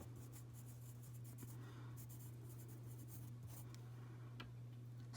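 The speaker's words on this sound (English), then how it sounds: "I'll write this down so that we, so that we know." A pen writes letters on paper in faint, scratchy strokes over a steady low background hum.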